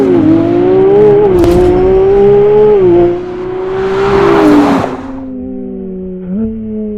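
A Ferrari 296 GTS drop-top turbo engine revs loud and close, with drops in pitch as gears are short-shifted and a rushing turbo whoosh between shifts. No voices.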